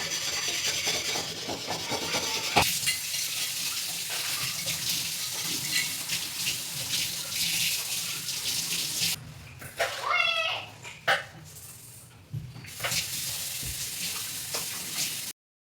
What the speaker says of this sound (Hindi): फिर मैं आ गई थी बर्तनों को धुलने के लिए। जो नाश्ता करके हमने रखा था तो उसको वॉश कर रही थी